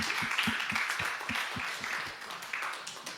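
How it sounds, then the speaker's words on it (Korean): A church congregation claps during a Sunday worship service, with loud, fairly rhythmic clapping near the microphone that holds steady before thinning slightly toward the end. "박수로 이분들을 보내드리겠습니다"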